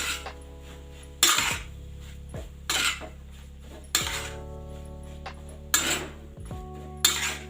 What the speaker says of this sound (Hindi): तो बस मैं इसको थोड़ा सा 2 से 3 मिनट के लिए अच्छे से भून लेती हूँ।